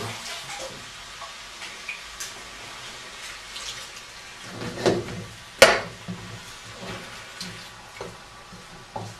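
Water splashing and trickling as a cooking container is rinsed out during chilli preparation, with faint intermittent sloshes and a couple of sharper clatters near the middle over a quiet kitchen background.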